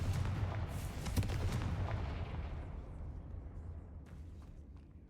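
A Confringo fire spell explodes in Hogwarts Legacy, a burst of crackling, artillery-like booms that rumble and fade out over several seconds, fairly quiet and alone.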